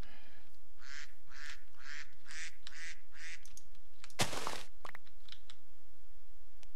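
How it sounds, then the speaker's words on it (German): Ducks in the Minecraft video game give a run of about seven rhythmic quacks, fairly close and steady, followed by a sharp rushing burst and a few faint clicks. "Hier sind Enten."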